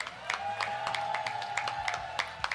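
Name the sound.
audience applause for the second place winner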